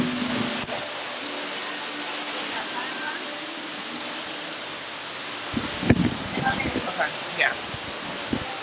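Wind buffeting a microphone outdoors near a restaurant in Panama, a steady broadband rumble and hiss throughout, with a brief voice and scattered handling noises near the end.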